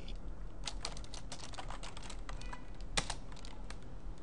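Rapid typing on a computer keyboard while a database connection string is entered: a dense, steady patter of close key clicks, moderately quiet, over a low constant hum, with no speech.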